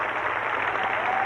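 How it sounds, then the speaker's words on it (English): A theater audience at the Vivian Beaumont Theater in Lincoln Center applauds steadily, a dense, even wash of clapping heard at moderate volume. "bowing to the applause of the audience assembled here in the Vivian Beaumont Theater"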